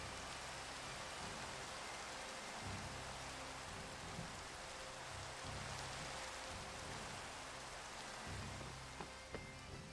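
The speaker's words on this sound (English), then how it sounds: "It's nighttime and it's raining." Steady nighttime rain in the Minecraft video game hisses evenly throughout, soft and continuous, with faint low thumps scattered beneath it and no voices.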